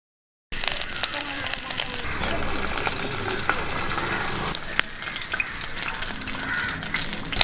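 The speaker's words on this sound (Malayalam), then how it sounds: "കടുക് ഇട്ടു. അത് പൊട്ടിക്കഴിഞ്ഞ് ഇനി അടുത്ത് ഉള്ളി ഇടാൻ." Mustard seeds pop and splutter in hot oil in a heated pan, a steady close sizzle broken by scattered sharp crackles and snaps.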